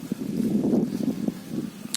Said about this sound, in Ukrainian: а тепер е, вітер дує, мабуть, нічого не чути